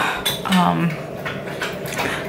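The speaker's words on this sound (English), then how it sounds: "Sink full of dishes." Dishes, pots and cutlery clattering in a home kitchen sink, with repeated clinks and scrapes spread across the moment, close and fairly loud, and a voice briefly heard among them.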